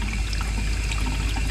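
Hot water runs steadily from a faucet inside a skoolie school-bus conversion, a continuous close, broadband rushing splash with no break.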